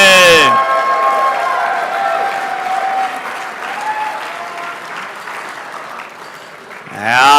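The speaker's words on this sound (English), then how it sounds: "Keep that applause loud and proud." Banquet audience at an RC racing world championship awards night applauds award winners in a long, steady round of clapping, loud at first and tapering slightly, with brief voice tones over the start and a rise at the end.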